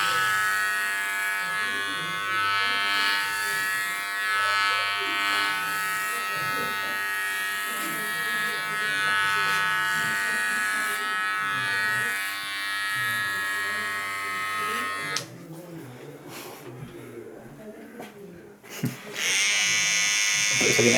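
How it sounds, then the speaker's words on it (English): An electric shaver buzzes steadily and close while shaving the top of a man's head, a continuous hum that drops out briefly near the end; voices talk over it. "I'm going to shave the top of his head"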